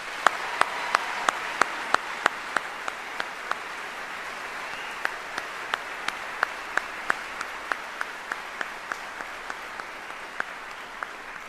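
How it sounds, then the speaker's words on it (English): Audience applause at a US Army general officer retirement ceremony, a broad sustained roar of clapping from a large crowd, with sharp individual claps standing out regularly above the wash, no speech. "Ladies and gentlemen, please join me in a round of applause for these 54 great soldiers."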